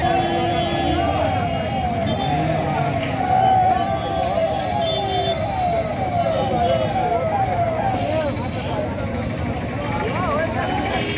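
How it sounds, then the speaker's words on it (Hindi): A fire brigade engine passes with its siren wailing up and down over loud traffic at a busy crossroads, with a crowd talking throughout. "अरे वो सीधे चला गया यार फायर ब्रिगेड वाला।"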